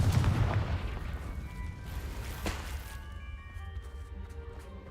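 A Confringo fire spell explodes in Hogwarts Legacy, a loud close boom at the start that rumbles off into a fading low roar over a few seconds.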